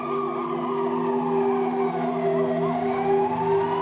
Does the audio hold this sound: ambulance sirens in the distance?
yes